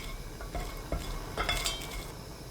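Stock anchovies and dried shrimp stir-fry in a pot over high heat, with a utensil scraping and clinking against the metal over a steady sizzle.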